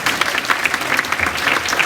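A live audience claps and cheers for a singer, a dense, steady wash of applause that stays loud and close for the whole brief stretch, with no voices rising above it.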